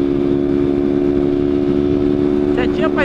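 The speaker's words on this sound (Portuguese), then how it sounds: "Tem uma moto aqui atrás" A motorcycle runs close behind on a city street, its steady engine drone continuous throughout, with a brief rising whine near the end.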